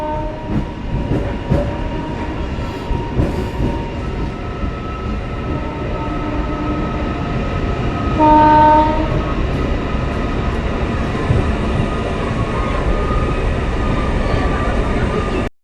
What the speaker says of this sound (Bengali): ট্রেন এখন ধীরে ধীরে ছুটে চলেছে